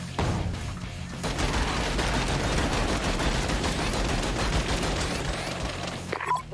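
Sustained rapid machine gun fire from a video game in a llama apocalypse setting, loud and continuous for several seconds after a brief quieter opening, with dense overlapping bursts and no pause.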